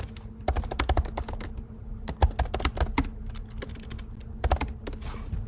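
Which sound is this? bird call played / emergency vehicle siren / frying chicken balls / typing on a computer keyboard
typing on a computer keyboard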